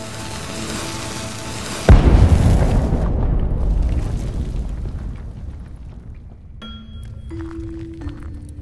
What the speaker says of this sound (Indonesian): Kita ledakan gua ini.